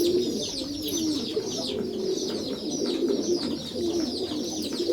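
Pigeons in a pigeon loft coo continuously up close, with overlapping throaty burbling calls and occasional soft flutters against a steady background of birds.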